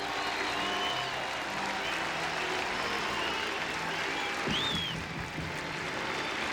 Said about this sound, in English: John Wasden comes out and gets a fine round of applause from the crowd here at Fenway Park